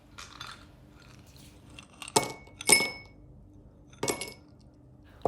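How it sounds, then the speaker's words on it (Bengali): Several ice cubes drop into a glass of mango lassi, giving crisp separate clinks: a couple of close knocks in quick succession, then another a moment later, with quiet gaps between. "দিয়ে দিচ্ছি কিছু আইস।"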